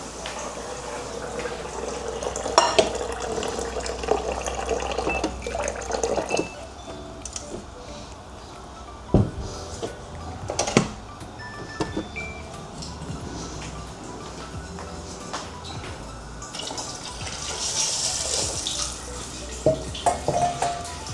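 Water is poured into a cooking pot of chicken sopas, giving intermittent splashing and trickling bursts with clatter between pours, fairly close and moderate in level.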